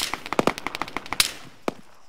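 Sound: gunfire in the video game Arma 3

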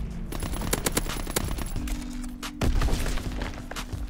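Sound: ERMA EMP SMG gunfire in Call of Duty WW2 video game

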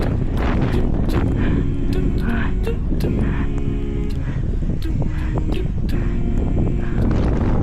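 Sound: strong wind blowing into the microphone

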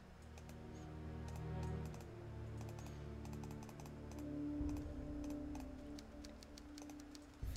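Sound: typing on a computer keyboard

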